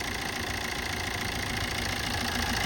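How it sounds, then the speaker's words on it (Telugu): A 2013 Maruti Swift VDI diesel engine idles steadily with an even, continuous clatter heard close up and alone. "ఇంజన్ సౌండ్ అనేది చెక్ చేసుకోవచ్చు."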